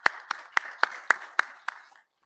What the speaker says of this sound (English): a clap of hands for that?